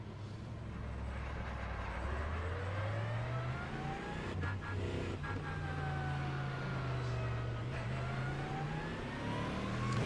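A GT3 race car engine hums at a low rumble, its pitch drifting gently up and down as it idles, steady and close with no talking.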